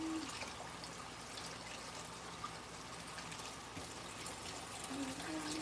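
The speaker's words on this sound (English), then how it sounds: "Wash our berries." Tap water running steadily while berries are washed in a kitchen, a soft, continuous trickle and splash at moderate distance with a faint hum beneath.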